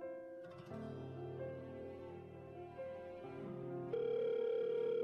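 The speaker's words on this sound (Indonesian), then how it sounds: "Aku akan telepon Yeksi." A telephone rings with a steady electronic tone that shifts partway through and grows louder near the end, with no voices.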